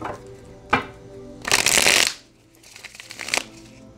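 Tarot cards shuffled by hand: a sharp snap near the start, then a loud riffling burst lasting about half a second, followed by a softer second riffle, close and with no talking.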